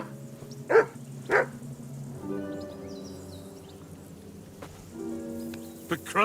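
A dog in the video game Kingdom Come: Deliverance II barks a few times, a pair of close sharp barks followed by sparser ones over a humming background and faint insect chirps.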